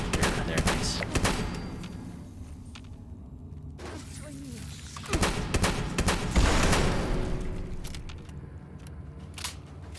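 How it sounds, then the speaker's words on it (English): A video game explosion in Fallout 76 alongside bursts of gunfire, with sharp repeated cracks and heavy thumps in a loud, dense, chaotic mix of combat noise. "Person died from the explosion"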